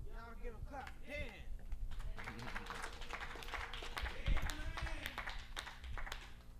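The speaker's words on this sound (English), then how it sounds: "Y'all give a clap." An audience at a funk master class claps, with scattered, uneven hand claps under ongoing talk and sustained musical tones.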